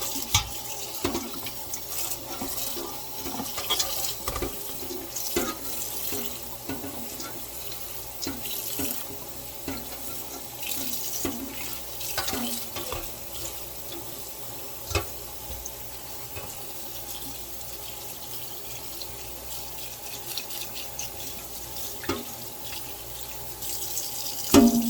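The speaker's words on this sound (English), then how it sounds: "we're gonna rinse these off again" Tap water runs steadily into a kitchen sink while dandelions are rinsed, a continuous close splashing hiss with occasional clinks and drips.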